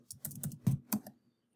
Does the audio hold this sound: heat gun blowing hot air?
no